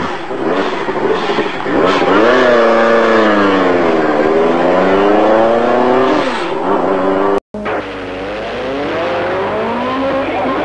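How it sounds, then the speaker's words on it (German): Lancia S4 rally car of about 450 horsepower at full throttle on a stage of the 1986 Rally Monte Carlo, a loud, close engine howl rising and falling through gear changes, with a brief dropout near the end. "Massimo Biasion auf seinem Lancia S4, Startnummer 9, fährt Bestzeit."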